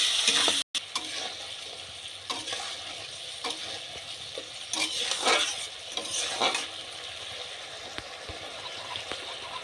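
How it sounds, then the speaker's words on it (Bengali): Chicken masala stir-fried in a pan, a soft steady sizzle with repeated scrapes and taps of a spoon stirring, fairly quiet and close. "দিয়ে ভালো করে মশলাটা আরেকটুক্ষণ কষিয়ে নেব"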